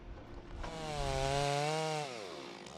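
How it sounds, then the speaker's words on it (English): A chainsaw runs steadily, its engine whine rising in pitch as it revs up and then easing back down, loud and close with no talking, logging in the forests of the Pacific Northwest. "The chainsaw."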